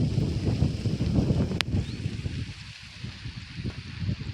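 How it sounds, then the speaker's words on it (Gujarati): Strong wind sweeping across an open cumin field, a gusty low rumble that buffets the microphone in uneven surges. "પવન મિત્રો બહુ જોરદાર છે"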